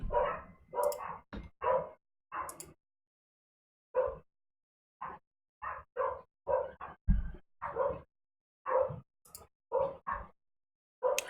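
Dogs barking in irregular bursts, some single and some in quick clusters, with silent gaps between them; the barks are fairly close and moderately loud, and no one speaks.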